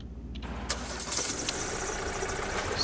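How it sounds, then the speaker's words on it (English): An airport stair truck's engine in a video game turns over and settles into a steady mid-pitched idle, close and fairly loud, over a few seconds with no talk. "Okay, so we gotta get one of these stair trucks here."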